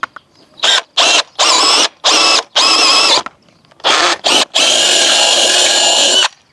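A power drill whirs in short bursts, starting and stopping about seven times, ending in a longer sustained run, loud and close, drilling a hole through the centre of a wooden garden arbor.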